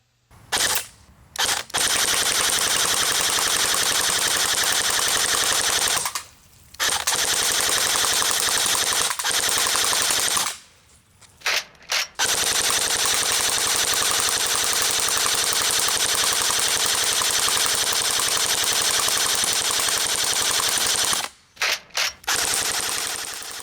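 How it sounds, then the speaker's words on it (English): Long bursts of full-auto fire from a Cybergun AK-47 airsoft rifle shooting 6mm BBs at cans 25 yards away outdoors, sustained rapid rattling strings broken by a few short pauses, loud and close with no talking. "using the AK-47, I decided to see if I could saw these cans in half with fully automatic gunfire"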